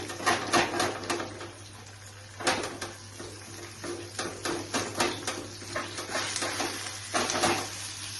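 Paneer lightly frying in a pan, giving a soft crackle of irregular sputters and light pops over a faint steady hum, with a few sharper spatters now and then.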